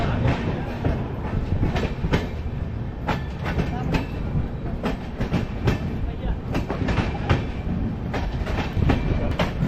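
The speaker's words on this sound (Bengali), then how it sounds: "ট্রেন ছেড়ে দিল মধুপুর জংশন থেকে।" A Kumbh Express train, Howrah to Haridwar, pulls out of Madhupur Junction with steady rolling rumble and repeated clickety-clack wheel beats over rail joints, loud and close throughout.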